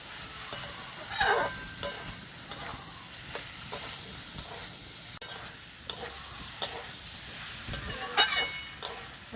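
Soybean and potato sautéing in a pan, a steady sizzle under repeated scraping strokes of a spatula at a loose rhythm, close up, with no one speaking.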